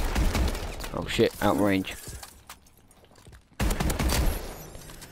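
Bulldog shotgun blasts in Call of Duty: Advanced Warfare: a loud burst of gunfire at the start, then a heavy broadband blast sustained over the last seconds, with someone talking excitedly over the opening shots.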